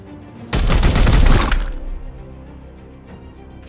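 Gunfire in the video game Warhammer 40,000: Chaos Gate - Daemonhunters, a loud, heavy burst of about a second with rumbling impact, followed by a lingering low tail and a faint click.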